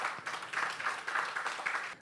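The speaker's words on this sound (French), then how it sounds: "Est-ce qu'on peut applaudir?" Audience at a French-language CEO talk event applauding in steady, dense clapping that sounds moderately distant and lasts the whole moment.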